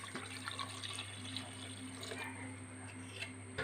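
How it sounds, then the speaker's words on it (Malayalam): Water runs into a pressure cooker holding potatoes, a soft, continuous pouring and splashing that is faint and close, with no voices. "നമുക്ക് ഇതിനാവശ്യമായിട്ടുള്ള വെള്ളം അങ്ങോട്ട് കൊടുക്കാം"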